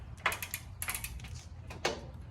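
A socket ratchet tightens bolts on an Opt Offroad high clearance skid plate between the diff and frame, giving three short bursts of quick clicking, close and fairly quiet, with no talking.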